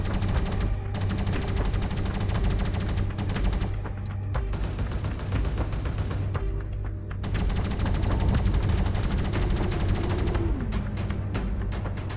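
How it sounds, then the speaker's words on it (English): Rapid, sustained weapon fire from a ship in the space game Space Reign as it shoots at a moving target, a dense run of close, loud shots over a low engine hum with brief pauses between bursts, no talking. "Shoot down a moving target."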